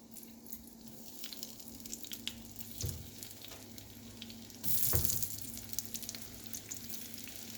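Seasoned salmon fillets sizzle steadily face down in a pan over medium-high heat, a continuous frying hiss with scattered crackles and a louder burst of spitting partway through.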